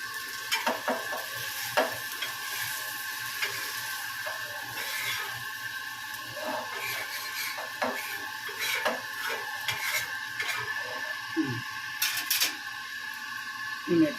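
Fish fries in a pan over outdoor village cooking, a quiet steady sizzle broken by intermittent scrapes and clinks of a turner, with a voice speaking at times.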